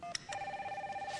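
A telephone rings in a steady, rapid electronic trill that starts abruptly after a brief click and continues evenly at moderate volume, with no talk over it.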